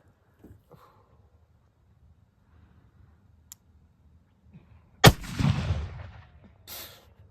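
A Civil War–era revolver fires a single loud, sharp shot mid-clip with a booming outdoor tail, preceded by quiet clicks of handling and faint background noise.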